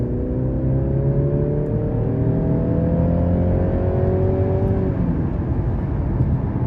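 A 2023 Mercedes-Benz C300 with its 2.0-litre turbo four and 9-speed automatic accelerates hard in Sport Plus mode, engine pitch climbing steadily through a gear, heard from inside the cabin, loud and continuous.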